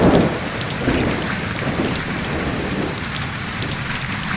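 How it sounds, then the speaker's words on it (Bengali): Heavy rain pours down steadily outside a roadside tea stall, a dense continuous hiss of drops with a low rumble underneath, loud and close throughout with no voices. "বৃষ্টিটা আবার জোরে এলো"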